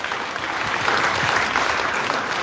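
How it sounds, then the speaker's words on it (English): Steady, dense applause from a school graduation audience fills the space, even and sustained without a break, with no voices rising above it. "Clap our parents."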